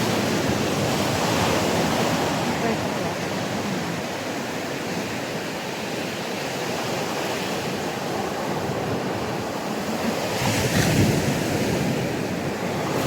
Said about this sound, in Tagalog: Grabe yung alon ngayon.